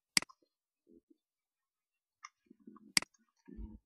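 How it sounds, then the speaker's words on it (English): A computer mouse clicking while saving a new user in the OpenEMR medical record system: two sharp isolated clicks a few seconds apart, close and quiet, with faint incidental rustling between. "click save"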